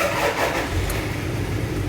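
A warm Toyota 1KZ-TE diesel engine, freshly rebuilt and being run in, cranks and fires, then settles into a steady close-up running sound that holds level without a break.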